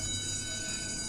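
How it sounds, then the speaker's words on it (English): A submarine alarm in the video game UBOAT sounds as a steady, unbroken electronic tone with a constant hum beneath, filling the whole short moment at a moderate level with no talking. "Okay, the alarm is sounding."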